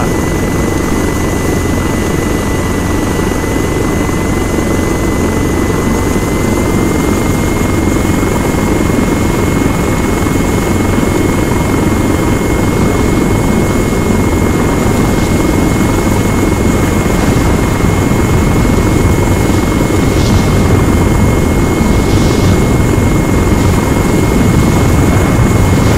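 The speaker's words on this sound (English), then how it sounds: "We are a black helicopter" A helicopter in the video game ArmA 3 drones loudly and continuously in the cockpit, with a steady rotor and engine roar and a sustained high turbine whine throughout.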